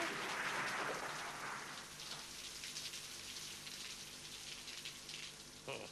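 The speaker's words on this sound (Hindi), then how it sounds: "अरे बाहर बारिश भी है" Rain falls outside as a continuous broadband hiss of drops, heavier at first and then easing to a steady, even patter, with no voices over it.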